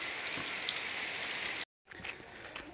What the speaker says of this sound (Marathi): मरणाचा पाऊस पडतो